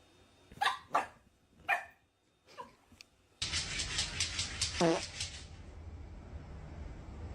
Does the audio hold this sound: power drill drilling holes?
no